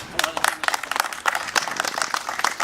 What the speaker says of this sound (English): I want to give a hand of applause to all of the team